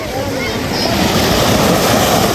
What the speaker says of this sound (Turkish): Aha dalgalar vurdu Doruk'a